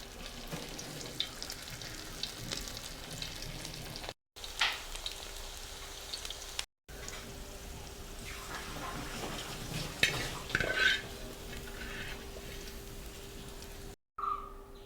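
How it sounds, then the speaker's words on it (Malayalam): Cauliflower florets for Gobi Manchurian frying in hot oil, a steady crackling sizzle with occasional stirring clinks, continuous throughout apart from a few brief dropouts. "ഈ കോളിഫ്ലവറും കൂടെ ഫ്രൈ ചെയ്തെടുക്കാം."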